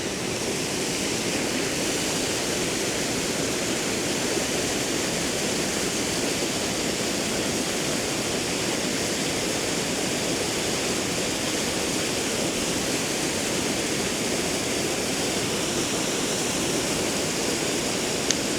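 Flowing water rushes in a constant broadband roar, steady and close for the whole stretch, with no voices or other distinct sounds.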